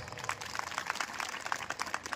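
Audience clapping at a poetry recital during a village festival in Bilaisarda, Balangir: scattered, faint, uneven handclaps from a small crowd, continuous for a couple of seconds.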